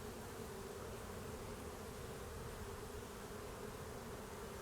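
Honeybees buzzing during a January hive inspection, a dense, continuous hum of many wings. It is fairly faint and unbroken, and nothing else is heard.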